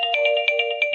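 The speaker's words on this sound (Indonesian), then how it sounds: "maaf ada telepon lagi." A phone ringtone plays steadily, a bright electronic melody of repeating tonal pulses in a quick rhythm, close and clear, with no voices over it.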